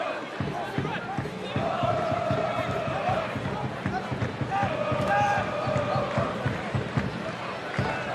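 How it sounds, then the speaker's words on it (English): A football stadium crowd at an A-League match between Adelaide United and Central Coast Mariners keeps up a dense, continuous roar with chanting swells, heard from a distance beneath a commentator's voice. "Crowd making great noise, providing the soundtrack to the occasion."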